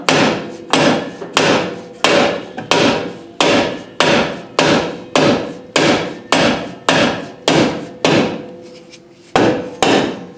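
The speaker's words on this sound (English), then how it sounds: "I gotta get this drum off. It's gonna require some beating" Repeated hammer blows on the brake drum of a barn-find Ford Mustang, about fourteen loud metallic strikes in a steady rhythm with a short pause before the last one.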